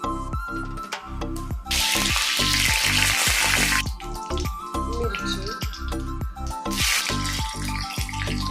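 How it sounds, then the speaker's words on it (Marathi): Peanuts frying in hot oil with cumin in a kadhai, giving a steady close sizzle that surges loudly twice, with rhythmic stirring scrapes throughout. "शेंगदाणे छान परतून घ्यायचं"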